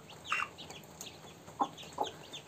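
Young chicks and a hen call near a farmyard, a few short chirps and clucks scattered over a quiet background, fairly faint and spaced out.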